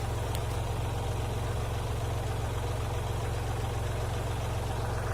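A tractor engine runs steadily while lifting a load with weight on the back end, a low rumbling drone with a constant throb, moderately close and without any talk.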